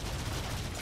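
Gunfire in the Warframe video game, a short continuous rattle of rapid shots with a dense low rumble, heard on its own.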